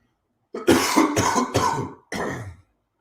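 A man watching the Georgia Bulldogs versus Michigan Wolverines game coughs close to the mic, three harsh bursts in quick succession and then a fourth after a short pause.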